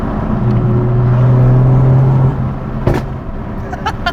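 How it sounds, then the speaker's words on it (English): A loud car drones inside the cabin under steady throttle, then the exhaust pops sharply and crackles in quick bursts as the driver lifts off the gas. "If you let off the gas in like pretty much any part of the rev range, gosh, it's so loud."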